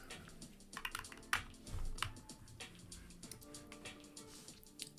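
Typing on a Keychron K2 mechanical keyboard during a coding session: quiet, irregular clusters of crisp key clicks and taps, close up and alone, with no talk.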